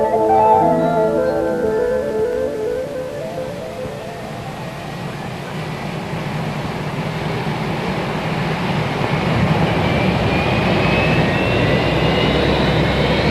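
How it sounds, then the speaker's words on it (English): Four Boeing 747 jet engines motored on the ground in snow and freezing temperatures during 1969 launch testing, a steady broad roar with a rising whine building over the clip, no talk. "In spite of snow and freezing temperatures, engines are motored."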